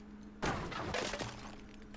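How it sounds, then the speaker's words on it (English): Smashing and breaking during house demolition in the video game Deconstruction Simulator: one sharp crash followed by a scatter of shattering, rattling debris over a low steady hum. "That smashing sound, I thought we broke something."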